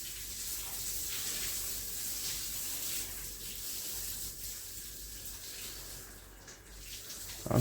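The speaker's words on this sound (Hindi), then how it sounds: "और देखो कैसे पानी टपक रहा है।" Water steadily dripping and trickling off a freshly watered building under curing, a continuous broadband wash of splashing with no clear single drops, fairly close and even throughout.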